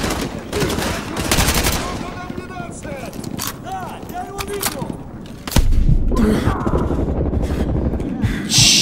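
Gunfire in the Call of Duty Modern Warfare 2 Remastered video game: loud bursts of automatic fire and single shots crackle throughout, with game sound effects, a thud and surging combat noise, under shouted voices.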